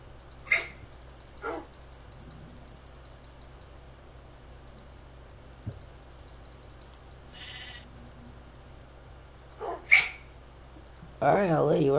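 Minecraft wolf barking in short, separate sharp yelps spread across the clip, with a louder burst of game noise near the end over a quiet background.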